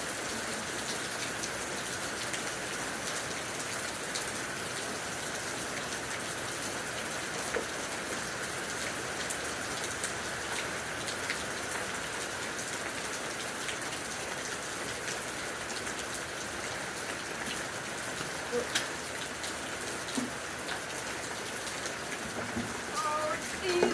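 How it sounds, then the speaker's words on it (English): Steady rain falls on hard outdoor surfaces with a constant dense hiss of drops that continues without pause, with a few louder individual drips near the end. "Oh, the rain's easing up now."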